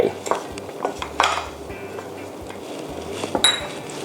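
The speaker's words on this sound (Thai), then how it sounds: "ตอนนี้เราก็คนนะครับให้ แห้วกับเป็นสาคูเริ่มเข้ากันนะครับ" Water chestnuts and sago stirred together in a pot for Thai tako, a spoon clinking and scraping against the metal in irregular knocks, close and fairly loud, with a voice talking throughout.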